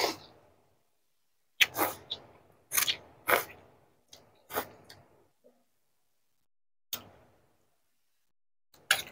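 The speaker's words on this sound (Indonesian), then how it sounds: "Oke, kita kunyah-kunyah dulu ya." Someone eating Bugis noodles with rice, egg and chili makes close, wet chewing and crunching sounds. They come in irregular bursts separated by silent pauses.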